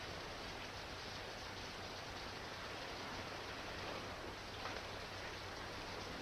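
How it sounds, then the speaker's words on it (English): Steady rain falls in a continuous, even hiss of dense drops, faint and unbroken throughout, with no voices over it. "It's raining."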